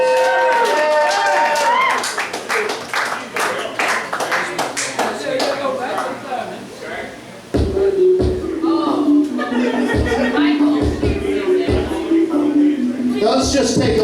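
Crowd applause at a live hedonism-themed stage show as a performer named Michael Garvin is welcomed, dense clapping with scattered shouts and a host's voice talking over it.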